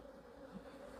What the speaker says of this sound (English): these bees are not happy.